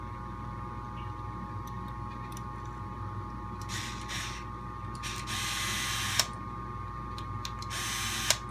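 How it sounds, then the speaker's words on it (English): Small screws being driven into the stock shock tower of an Axial SCX10.2 RC crawler while fitting a trailing arm kit, giving a steady faint mechanical whir with light ratcheting ticks and a couple of sharp clicks, no talk. "It just screws into the factory shock tower."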